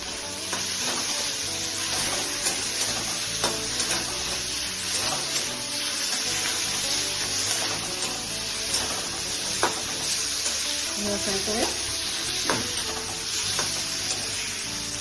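Prawns frying in a pan with poppy seed paste, a continuous close sizzle with intermittent scraping and clinking of a spatula stirring at irregular moments, no speech.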